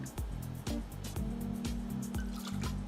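About 30 ml of port wine is poured for a cocktail, making a close, steady gurgling trickle with small rhythmic glugs and nobody speaking.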